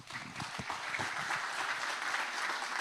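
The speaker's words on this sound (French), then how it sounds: "On peut les applaudir bien fort." Audience applause at a French public talk on arthritis, a dense steady wash of many hands clapping, fairly loud and sustained throughout with no voices over it.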